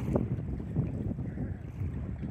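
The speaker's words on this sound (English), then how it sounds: "There could be some wind noise in the video, it's a windy day." Low, steady rumbling wind buffeting a Sony Xperia XZ Premium phone microphone on a windy day, continuous gusty noise with no voices.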